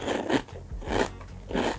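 Biting into a Siganflex crunchy crispbread snack: three close crisp crunches spaced about every half second, with no talk.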